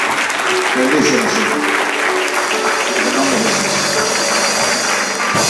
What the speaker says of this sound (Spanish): un aplauso fuerte al Señor Jesucristo